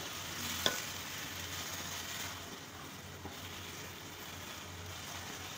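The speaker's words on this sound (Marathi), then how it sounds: "गॅसची फ्लेम स्लो ठेवले. स्लो गॅसवर आपण ही भाजी करणार आहोत." Vegetable bhaji with salt and no onion or garlic cooks over a slow gas flame, giving a faint, steady low sizzle and a hiss with a single soft clink near the start.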